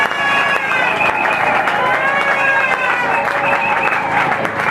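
A church congregation acclaims in unison, many voices shouting and chanting together in a loud, continuous, echoing wall of sound that holds steady throughout.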